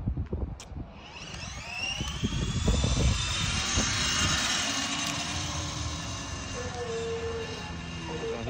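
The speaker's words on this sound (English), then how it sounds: "So here's what it looks like racing a stacyc without the wire cut." Talaria electric dirt bike racing a Stacyc electric balance bike, a steady rising electric motor whine with broad whooshing noise, loud and continuous throughout with no talk.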